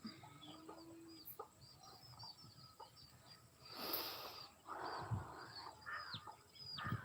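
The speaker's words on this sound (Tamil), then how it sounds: "இப்போ வந்து ஒரு கோழி மட்டும்தாங்க மேலே ஏறி உட்காந்துருக்குது" Chickens cluck and chatter quietly in the background of a garden in the evening, with scattered soft calls and some rustling of an outdoor yard.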